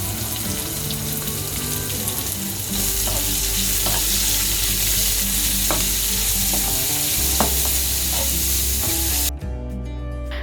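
Onions frying in a hot pan for a Punjabi-style chicken gravy, a steady loud sizzle under repeated scraping stirs, with a brief rattle near the end.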